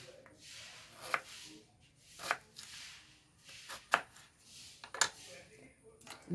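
A knife chops through raw plantain on a board, five sharp evenly spaced strikes about a second apart, close up with quiet surroundings.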